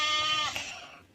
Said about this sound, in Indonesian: ada domba